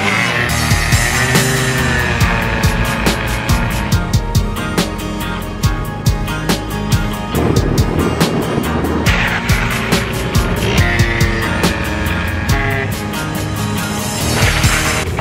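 A scooter with a freshly adjusted carburetor revving loudly nearby as it rides off, the engine droning and rising and falling in pitch with rapid buzzing pulses for about fifteen seconds.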